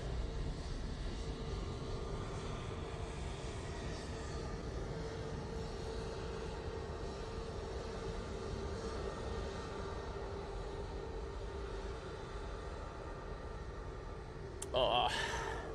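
A Jet2 airliner, an A321neo, moves at Manchester Airport, heard as a faint, distant, steady jet-engine roar with broad rumbling noise that holds evenly and swells briefly near the end.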